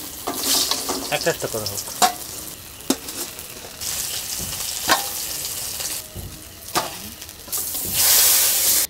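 Pomfret fish frying in oil in a pan, a steady crackling sizzle with repeated scrapes and clinks of a spatula turning the pieces, close and loud, with a brief voice speaking over it.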